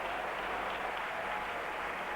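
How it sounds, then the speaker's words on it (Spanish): Valencia football supporters applaud player Ciraolo as he leaves the pitch, a steady, even wash of stadium clapping with no breaks, moderately loud, heard from a distance without any voice over it. "Ciraolo fue aplaudido largamente por la afición valencianista"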